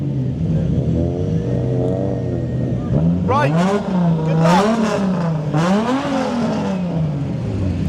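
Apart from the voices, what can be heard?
drag racing car revving its engine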